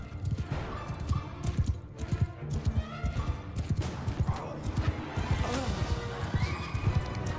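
Mount & Blade II: Bannerlord battle, with game horses whinnying and hooves clip-clopping close by, set against a busy din of combat and scattered impacts, fairly loud and continuous.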